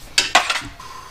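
Metal socket dropped during engine work on a Subaru, two sharp metallic clinks in quick succession followed by a brief fading rattle, close and fairly loud.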